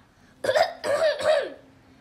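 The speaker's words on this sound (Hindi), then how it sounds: "ये खांसी मेरा पीछा ही नहीं छोड़ रही" Three quick, harsh coughs in succession from one person, close by, with brief pauses between.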